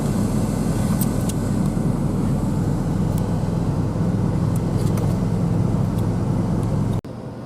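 A truck bogs down as it drives uphill through deep snow, its engine and tyres making a loud, steady, rumbling drone that cuts off abruptly near the end.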